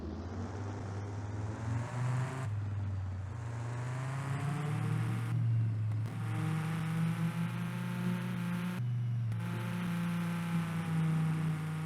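A sports car engine in a video game idles and revs with a steady low rumble, rising in pitch in a few smooth swells, with brief dips between, no voices.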